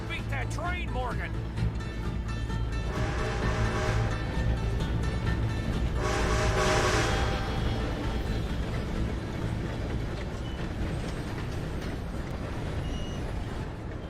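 A train rumbles past in the video game Red Dead Redemption 2, a loud and steady mechanical roar with brake-like hiss bursts, heard beneath frantic voices.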